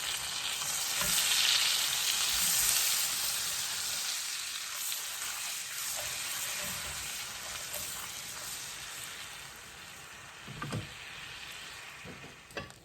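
A tablespoon of butter sizzles in a skillet as a continuous, fairly loud hiss. It eases slightly over time, and a few soft knocks and scrapes come near the end.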